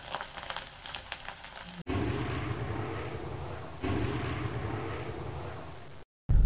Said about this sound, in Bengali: ডালের সাথে ভাজা হচ্ছে সাবু দে পাঁপড়